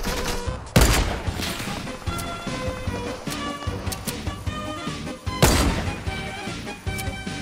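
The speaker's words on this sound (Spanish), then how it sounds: "Yo repartiendo tiros a lo loco a ver si alguno cuela." Fortnite gunfire comes in loud, sharp shots with two heavy blasts and rapid cracks scattered between them, dense and close throughout.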